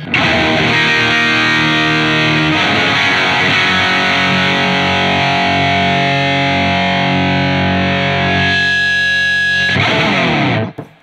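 Heavily distorted electric guitar through a Soldano-modified Marshall 800 amplifier, loud sustained chords ringing for about ten seconds before cutting off abruptly.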